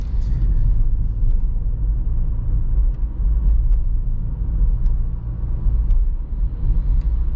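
A 2023 Dacia Jogger with the 1.0 TCe 110 hp engine and 6-speed manual driving at night, a steady low cabin rumble of engine and road noise with faint occasional clicks, heard from inside.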